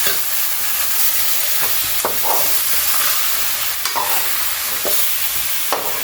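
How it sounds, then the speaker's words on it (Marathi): Vegetables for a karkara fish curry stirred into loud sizzling tempering oil with red chilli powder, a constant hiss punctuated by repeated sharp scraping stir strokes at close range. "आणि आता भाजी फोडणीला"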